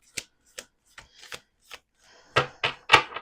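A small deck of cards is shuffled by hand in a series of short, crisp riffles and taps, spaced apart at first and then building into louder, quicker bursts near the end, close up with no voices.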